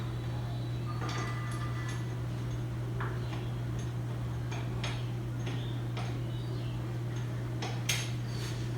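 Nuts being tightened while assembling an Astride Ergofit gaming and office chair: scattered faint metallic clicks and ticks, irregular and close, over a steady low electrical hum.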